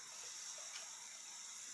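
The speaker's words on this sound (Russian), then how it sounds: "Иногда бывает шипит одна и та же сода, а иногда не шипит." Steady, soft fizzing hiss of baking soda bubbling in water, continuous and fairly quiet throughout, with no voices.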